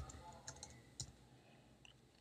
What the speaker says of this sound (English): from here is where you're going to be typing in what that new extension is